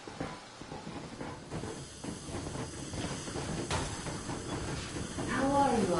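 The Yermak steam train in Metro Exodus runs at full steam, a continuous rushing hiss and rolling rumble that swells toward the end, with a voice talking over it.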